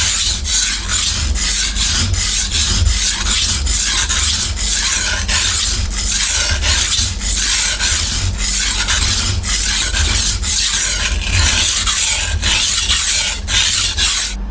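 Kitchen knife steel rasping back and forth across a wet waterstone in steady, even strokes, a loud continuous gritty scrape with no pauses and no talking.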